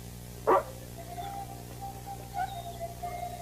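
One sharp, close bark from a dog comes early, then quieter whines and whimpers over a low steady hum.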